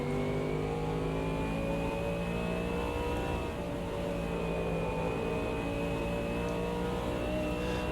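V8 AMG GT3 race car in the Automobilista 2 video game holds a steady, loud engine rumble with a high gearbox whine running over it throughout.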